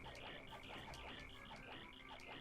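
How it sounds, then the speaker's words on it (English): Frog croaking from Paper Mario: The Thousand-Year Door, a rhythmic series of repeated bright croaks pulsing steadily over a quiet game background, with no voices. "Now, while they say cricket, this is a frog."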